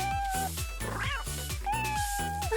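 A cartoon cat in the video game Toca Life World gives a couple of drawn-out meows over upbeat background game music.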